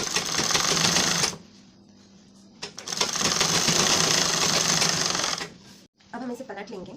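Sewing machine stitching a blouse lining, two bursts of rapid mechanical whirring and clatter separated by a quiet pause, close and fairly loud, ending with brief handling noises.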